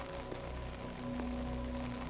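Rain falls on a Tokyo night, a steady soft patter on surfaces with occasional drips against a low background hum, even and continuous with no voices.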